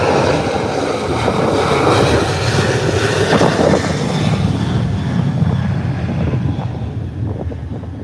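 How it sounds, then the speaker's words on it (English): A fixed-wing airliner taking off from Howard Hamilton International Airport on a clear day, a loud, steady jet engine roar with wind buffeting on the microphone, slowly fading as the plane climbs away. "Beautiful takeoff."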